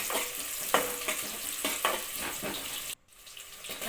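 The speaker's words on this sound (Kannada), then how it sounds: "ಈರುಳ್ಳಿ ನೀಟಾಗಿ ಫ್ರೈ ಮಾಡ್ಕೊಳ್ಳೋಣ" Onions frying in oil in a pan, a close, continuous hiss and sizzle with a few stirring scrapes and a brief drop-out near the end.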